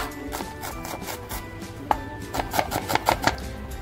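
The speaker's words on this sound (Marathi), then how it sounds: "छोटासा कांदा घेतलाय, बारीक कापून घेते।" A knife finely chops a small onion on a board, making soft, quiet taps that quicken into a brisk run of close chops near the end, with no talk.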